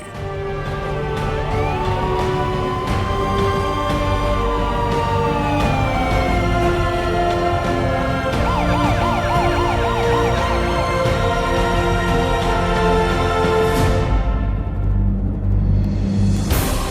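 An ambulance siren wails loudly and continuously with sweeping rising and falling tones, joined by a second warbling siren pattern, over steady engine and street noise at a crime scene.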